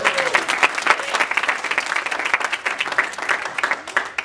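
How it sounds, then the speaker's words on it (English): A church congregation claps in praise, a dense burst of many hands lasting several seconds, loud and close, with a few faint voices mixed in. "Give the Lord a hand clap of praise."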